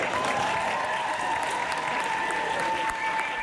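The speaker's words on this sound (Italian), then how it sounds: "L'applauso delle donne per le donne, 8 marzo in piazza per rivendicare i diritti" Women at a street demonstration in a town square on 8 March clap steadily and densely as a crowd. The applause is moderately loud and continuous, with no voices over it.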